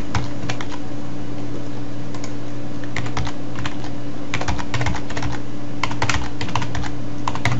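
Rapid, uneven keystrokes on a computer keyboard while entering data values, close and crisp clicks in bursts over a steady low electrical hum, no one talking.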